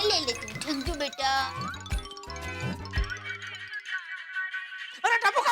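A phone rings with a bright, tinkling jingle in a lively Indian sitcom household scene, its chimes repeating through the clip while several voices, including a child's, talk over and around it at close range.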